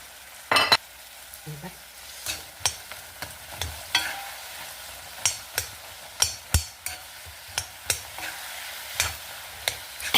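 Sweet potato pieces dropped into a pan with melting jaggery and stirred, giving a run of distinct scraping and knocking strokes in a steady rhythm over a faint sizzle, close and fairly quiet, with no talking.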